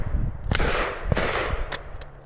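Pistol shots ring out outdoors during a red dot optic test, roughly four sharp reports spaced about half a second apart. Each blast is loud and close with a brief echo, and no speech is heard.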